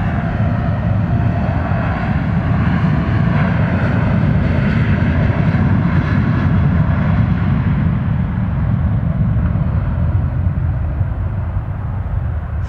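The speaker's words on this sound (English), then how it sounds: "The thunderous roar. Definitely a Southwest Airlines Boeing 737." A Southwest Airlines Boeing 737 roars as it passes at an airport, a loud, steady, broadband jet rumble that holds for the whole stretch and dulls slightly toward the end, with no talking.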